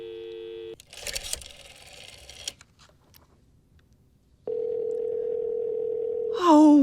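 Telephone line tones while placing a call: a steady tone, a burst of noisy line static, then a long continuous ringback-style tone that ends in a short warbling sound.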